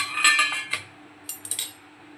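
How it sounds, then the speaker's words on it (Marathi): Metal utensils and a kadhai knocking and clinking on a gas stove in a home kitchen, a few quick bright clatters in two short bursts. "गॅसवर आपण कढई ठेवलेली आहे।"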